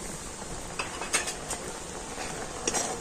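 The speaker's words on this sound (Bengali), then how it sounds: "এখন আমি জলের সাথে চালের গুঁড়ি আর ময়দাটা কিন্তু খুব ভালো করে মিশিয়ে নেব" Rice flour and wheat flour are stirred with water in a bowl, giving a steady soft scraping with a few light clinks of the utensil against the bowl, close and fairly quiet, with no talk.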